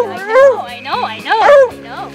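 Daisy, a four-year-old playful dog, lets out loud, close yelping barks that slide into high whiny whimpers, several bursts in a row.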